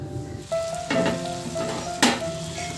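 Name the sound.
meat cooking in a pan for Assamese curry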